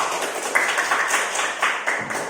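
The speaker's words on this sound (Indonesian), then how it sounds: "tepuk tangan untuk Adan" Classroom clapping for a student during a teaching session, a short burst of scattered hand claps from a small group lasting a couple of seconds.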